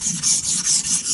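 A knife is drawn back and forth on a water stone covered in slurry, making rhythmic gritty rubbing strokes, about five or six even passes, close and clear with no voices.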